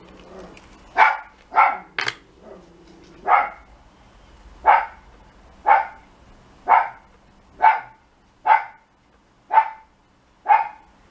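A dog barks in a steady series of about a dozen sharp barks, roughly one per second, close by and clear, with no other sound around them.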